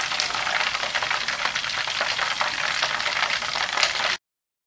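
Chicken wings frying in hot oil for spicy chili wings, a steady dense sizzle and crackle with scattered pops, close and continuous until it cuts off abruptly.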